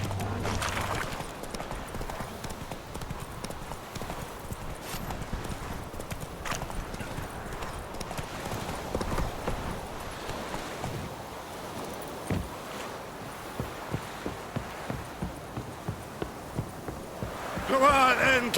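In The Witcher 3: Wild Hunt, a horse gallops with rhythmic clip-clop hoofbeats running throughout, moderately close, over faint game ambience, with a short voice near the start.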